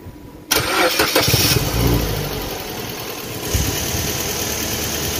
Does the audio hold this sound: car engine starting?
yes